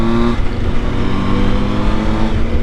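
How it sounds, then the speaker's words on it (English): A Triumph Tiger motorcycle engine drones steadily and loudly on a ride through an industrial area, with constant roar and wind noise and no voices. "By the way, Wiggy, your bike sounds sweet as a nut"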